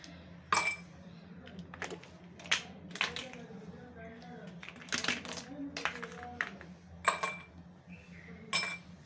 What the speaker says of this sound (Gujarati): હવે એની અંદર આપણે આઈસ ક્યુબ એડ કરીશું, બરફના ટુકડા એડ કરીશું 2 થી 3